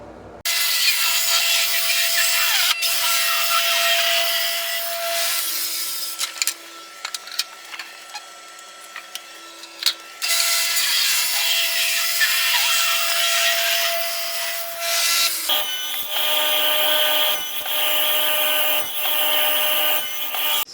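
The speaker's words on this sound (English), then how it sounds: "Next thing I'll be cutting are the slats." A power saw cuts ash wood slats in several long passes, loud and close, with short quieter pauses between the cuts.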